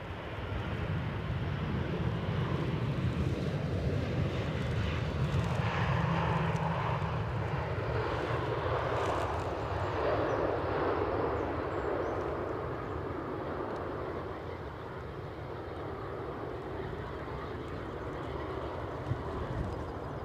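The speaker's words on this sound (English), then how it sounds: "Inbound from Brussels, we have the A319 in spotty livery." An Airbus A319 airliner inbound from Brussels at Edinburgh, its engine roar building and then holding as a broad steady rumble with a whining tone, heard alone at moderate distance, with wind noise.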